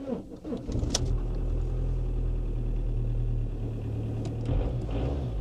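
An Audi diesel car engine idling steadily up close in a grubby interior, a low continuous rumble with a brief clunk near the start and no talking.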